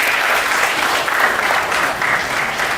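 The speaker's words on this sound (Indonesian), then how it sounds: "Mari kita berikan tepuk tangan." A university class audience claps together after quiz results are praised, a dense, even burst of applause filling the room for a few seconds without a break.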